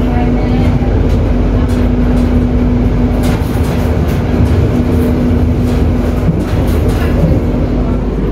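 Fajar Utama Solo passenger train in Indonesia running along the rails, a steady loud rumble with a constant hum and faint irregular rail clatter throughout, heard from inside a carriage with no talk.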